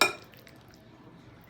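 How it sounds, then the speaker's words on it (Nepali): A single sharp clink of glass rings out as chicken pickle is packed into a glass jar, then fades into quiet handling noise. "म यो सिसाको भाँडामा प्याक गर्दैछु।"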